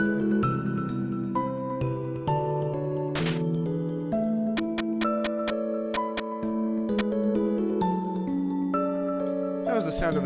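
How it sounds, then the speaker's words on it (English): In the Undertale game, a snow dispenser sounds out amid the game's looping background music: a few short bright clicks and dings over steady melodic tones, with talking under it. "That was the sound of a dispenser."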